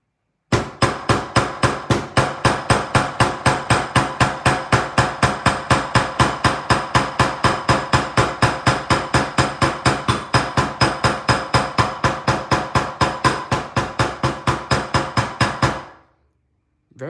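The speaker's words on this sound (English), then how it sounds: "I'm just gonna hammer out this top part." A hammer strikes SilverSilk wire on a wire-wrapped pendant in a fast, even run of sharp metallic taps, close and loud, keeping a steady rhythm for about fifteen seconds before it stops.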